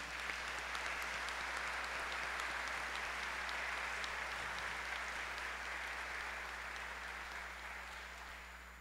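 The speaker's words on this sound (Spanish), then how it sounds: "Fuerte el aplauso, por favor." Audience applause at a municipal government report event in Acajete, Puebla: sustained, even clapping from a large crowd heard at moderate distance over a low steady hum, tapering slightly toward the end.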